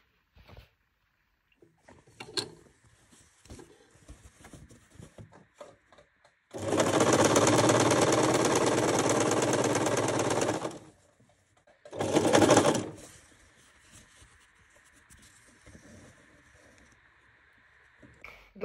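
A sewing machine stitches a skirt seam in two bursts, one steady whirring run of about four seconds and a shorter one after a pause, close and loud, with quiet handling rustles and clicks between.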